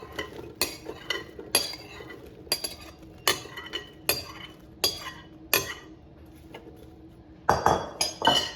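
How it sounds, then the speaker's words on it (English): Cubed Lita squash being tipped into an air fryer basket, a regular series of sharp clattering knocks as spoonfuls land in the metal basket, roughly one per second, ending in a quicker cluster of clinks. "I'm going to put all this cubed Lita squash in the air fryer basket"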